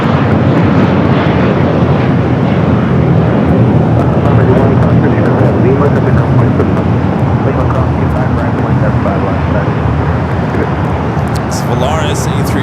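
An American Airlines airliner departs LAX for Charlotte, a loud continuous jet roar filling the clip with a dense low rumble, while a voice talks over it.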